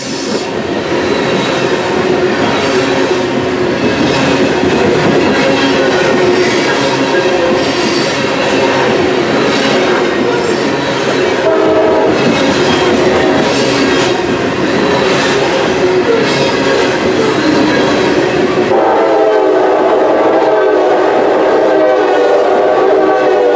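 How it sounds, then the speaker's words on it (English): A long grain freight train rolls past close by at night, a loud continuous rumble of railcars with repeated rhythmic wheel clacks and occasional squeals, no voices. "As the grain train continued to roll on by us"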